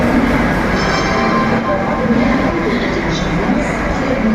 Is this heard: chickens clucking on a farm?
no